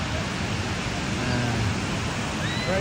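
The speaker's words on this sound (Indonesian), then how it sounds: "Ombaknya sangat tinggi, guys" High ocean waves at a Sydney beach roar as a steady, dense wash of surf noise filling the whole moment without a break.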